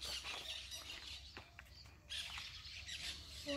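Parakeets squawk in short, harsh calls from a distance outdoors in Moncagua, over a steady rumbling background.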